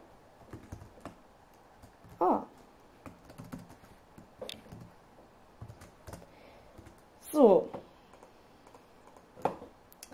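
Someone types code on a computer keyboard in a Visual Basic 2008 programming session: sparse, close, light keystrokes with occasional louder clustered bursts, in a quiet room without speech.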